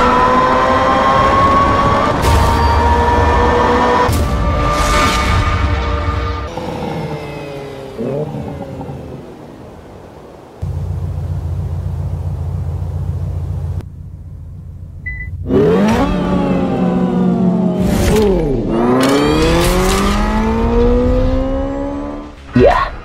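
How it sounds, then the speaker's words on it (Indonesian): Simulated race-engine sound from a Hyundai Ioniq 5 N electric car, loud rising and falling revs with sharp upshift-like drops, a quieter steady hum midway, then repeated hard revving climbs and falls. "Berbeda dibandingkan mobil listrik lain, kendaraan tersebut punya ruangan suara khas mobil balap."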